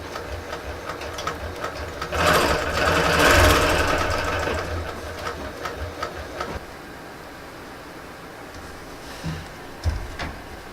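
A longarm quilting machine runs on the frame while stitching a quilt, its motor and needle making a steady mechanical whirr that swells louder mid-clip, then drops to a quieter hum with a couple of brief clunks.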